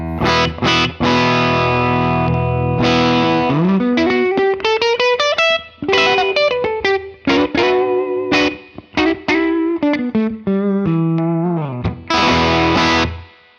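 An electric guitar rings out with heavy distortion and effects, strummed chords and quick melodic runs played loud and up close.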